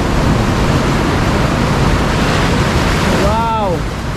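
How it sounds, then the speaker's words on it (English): Big ocean surf pounding onto a rocky Tobago shore, a continuous loud roar of breaking waves with wind buffeting the microphone, and a short whistle or cry rising near the end. "Those are big waves."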